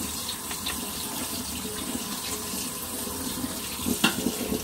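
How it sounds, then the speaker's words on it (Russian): Tap water runs steadily over honey mushrooms in a colander in a sink, a soft continuous splashing with a few brief clinks near the end. "Вот вода чистая бежит."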